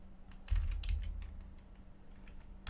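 Keys clatter in a quick burst on a computer keyboard as a price figure is entered, a short run of close, crisp taps over a low steady hum.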